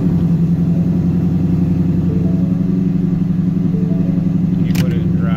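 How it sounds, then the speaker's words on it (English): Car with a transmission fault running at a steady idle, a loud, even low rumble close by, with a faint click near the end. "If you start the car"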